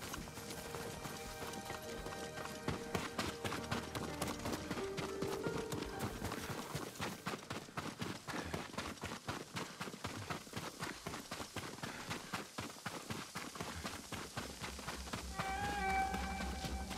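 Rapid horse hooves clatter in a steady galloping rhythm in the video game Ghost of Tsushima, dense and continuous, with faint music-like tones layered underneath.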